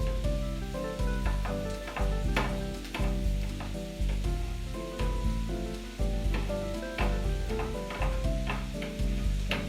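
Potatoes, red bell peppers, onions and garlic sizzle in a hot pan, with stirring scrapes and clatters recurring at a steady rhythm under a constant frying hiss, heard close with no talking.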